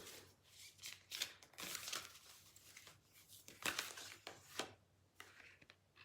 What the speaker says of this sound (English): every time I shuffle this deck,